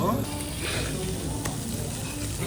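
Jeju black pork sizzles on a hot grill, a loud, steady, close hiss of frying fat that holds evenly from start to finish.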